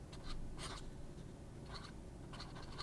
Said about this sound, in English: So when I write a little smaller with it, actually get some line variation